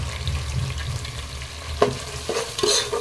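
Curd and green chillies sautéing in a pan for chicken biryani: a steady sizzle with a spoon stirring and scraping, plus a few sharp clinks against the pan, close and without talk.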